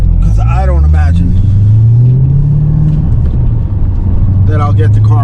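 A car is driven on the road on a short trip to the gym, with a loud, steady engine rumble and gently rising revs as it accelerates. A person talks over it at the start and again near the end.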